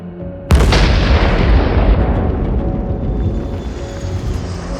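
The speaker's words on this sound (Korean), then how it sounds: "기내에 귀를 찢는 듯한 날카로운 폭음이 울려 퍼집니다" A sudden sharp blast rips through the cabin of Japan Airlines Flight 123, a passenger jet flying from Tokyo's Haneda toward Osaka, followed by a loud roaring rumble that slowly fades.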